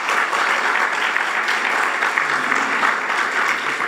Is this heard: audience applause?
yes